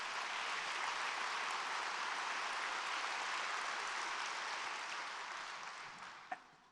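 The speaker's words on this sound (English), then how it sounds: "Let's give them a round of applause." A large audience at a civic address claps in sustained, dense applause that holds steady, then fades out near the end.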